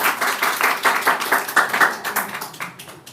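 Steady rhythmic hand clapping from a small group, with repeated sharp claps at a fairly even pace over a few seconds and a light murmur of voices behind it.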